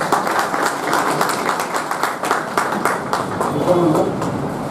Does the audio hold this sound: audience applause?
yes